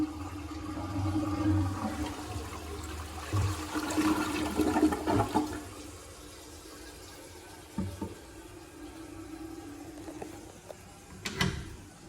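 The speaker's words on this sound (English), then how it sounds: "Here's another flush." A campground restroom toilet fitted with a Church seat flushes with a loud rushing roar for several seconds, then settles into a quieter trickle of refilling water, with a sharp knock near the end.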